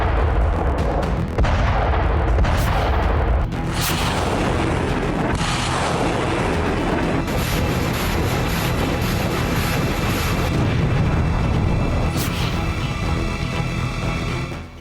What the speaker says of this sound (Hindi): न बारूद का फटना रुक रहा है, न रूसी मार्का टैंक तोप का गरजना।